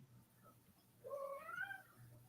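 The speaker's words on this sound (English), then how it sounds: "my cats are like go nuts now." Pet cats meowing indoors: a quiet background before one drawn-out, rising and wavering meow arrives in the second half, fairly close and clear, no talking.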